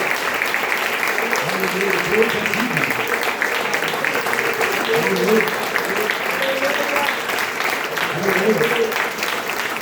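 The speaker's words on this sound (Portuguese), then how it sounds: "Dê uma salva de palmas." Steady applause from a crowd fills the background while a voice speaks loudly over it, continuous throughout.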